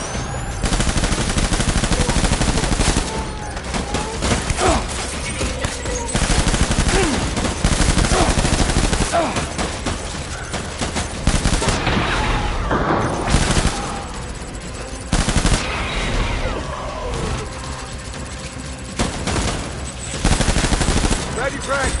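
Dense gunfire from the Death Stranding video game, with loud bursts of automatic fire and rapid shots coming in waves over a constant rumble, and voices shouting now and then between volleys.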